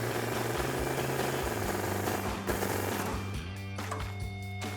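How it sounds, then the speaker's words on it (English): Rapid, loud mechanical rattling bursts as a 15mm socket tightens a sway bar end link nut on a Ford F150 during a lift kit install, followed by a lower, fading tonal whir. "once you got that hand tightened, you'll need that 15mm wrench and 15mm socket."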